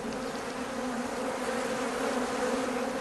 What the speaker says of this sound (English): It's about time that I got into the hive and had a check to see how things are getting on.